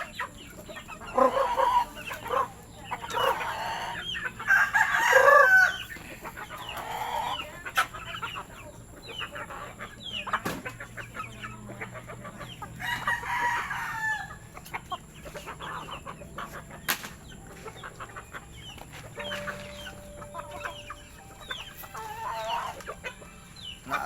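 Flock of chickens clucking steadily at morning feeding time, with occasional rooster calls, near and continuous, mixed with scattered rustling and a brief human call imitating the birds.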